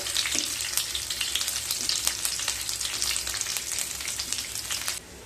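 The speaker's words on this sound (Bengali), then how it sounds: "এবার কিছুটা কিশমিশ ভেজে নেব।" Raisins frying in a pan for Bengali dalia payesh, a constant bright crackling sizzle with scattered pops and stirring, close and fairly loud, cutting off sharply near the end.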